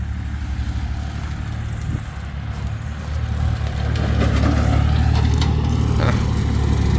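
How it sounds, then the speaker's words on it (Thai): Kubota L3408DT tractor with a three-cylinder engine running: a loud, steady low rumbling drone close by, growing slightly louder partway through, with no talking. "คูปต้า L 3 4 0 8นะครับ เครื่องยนต์ 3 สูบ4วิน พาวเวอร์นะครับ"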